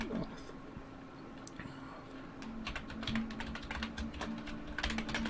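Fast, uneven clatter of keystrokes on a computer keyboard, moderately close, with bursts of clicks and brief pauses throughout.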